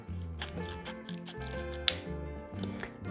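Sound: round-tipped scissors cutting plastic bottle

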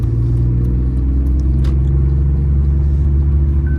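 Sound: BMW E46 car driving

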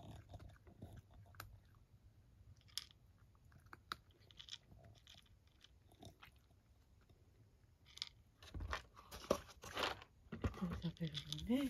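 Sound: cat eating breakfast food, chewing

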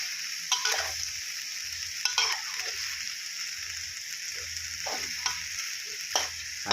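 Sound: stir-frying chicken jungle curry in a pan

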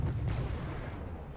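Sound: T-72B1 tank firing at infantry in Wargame Red Dragon video game

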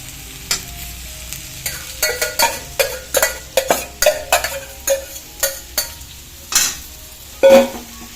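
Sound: stirring cooked breadfruit (kadachakka) in a pan

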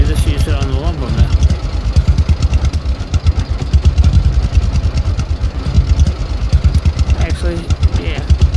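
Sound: tractor engine running in video game Lumberjack's Dynasty

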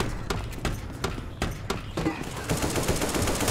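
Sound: gunfire in the video game Left 4 Dead 2

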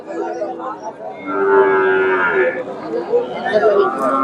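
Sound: Friesian cattle at livestock market

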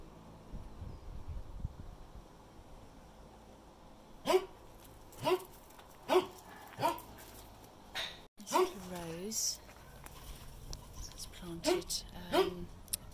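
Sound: dog barking

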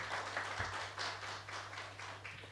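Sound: a person in the audience clapping

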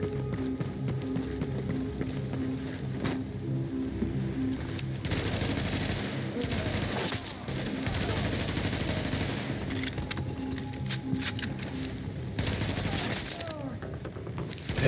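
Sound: gunfire in the video game The Division

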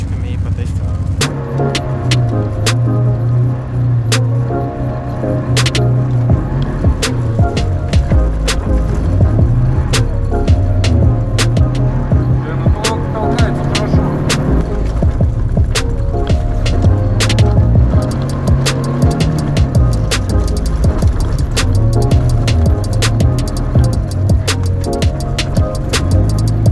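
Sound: Subaru drift car driving on a race track

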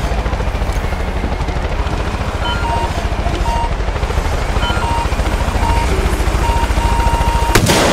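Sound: helicopter approaching amid gunfire in video game Far Cry 5

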